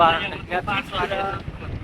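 Gusty wind blasts over a Himalayan mountain road near Kedarnath in short, loud surges, with a person talking over the roar.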